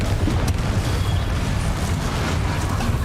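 Spell explosions go off in the video game Hogwarts Legacy, played on hard mode: a loud, dense, continuous booming roar with rumbling blasts layered over one another and no pause.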